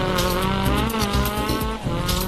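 A rally car slides through a gravel stage of a Wales championship round in DiRT Rally, its engine roaring loud and close with rising and falling revs throughout the slide.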